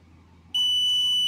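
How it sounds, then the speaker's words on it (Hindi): A multimeter continuity buzzer sounds while an NTC thermistor is tested. After a quiet half second it gives a sudden, loud, steady high-pitched tone that holds without a break. "आप देख रहे हैं बजर चल रहा है तो ये ओके है"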